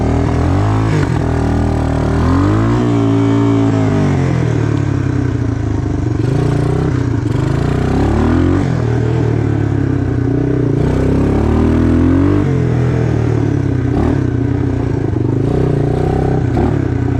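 1986 Suzuki Quadrunner LT250EF ATV climbing a hill in crawl gear, its engine loud and close, revving up and down in wavering pitch with clattering and scraping from the terrain.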